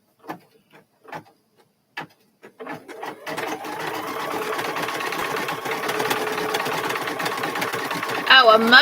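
A home sewing machine starts after a few scattered clicks and handling sounds, then runs in a steady fast whirring stitch, close and continuous, speeding up briefly near the end.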